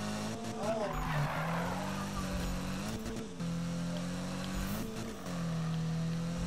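A car drifting in a Need for Speed race, tires squealing in long sustained screeches over a revving engine, with a voice talking over the action.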